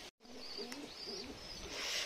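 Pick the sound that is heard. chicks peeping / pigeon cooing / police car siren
pigeon cooing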